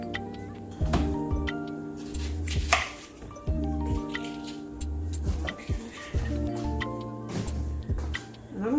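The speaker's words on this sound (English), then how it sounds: "I'm gonna chop up this onion and then start cooking our meat" A kitchen knife chops an onion on a cutting board during home weeknight cooking, giving irregular close taps and knocks under steady background music.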